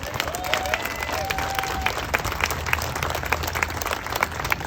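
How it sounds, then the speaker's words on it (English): Audience applause for the organisers of a Ukraine gathering, a dense, steady wash of many hands clapping that fills the room, with a few brief whistles and cheers rising over it. "Please give them a round of applause."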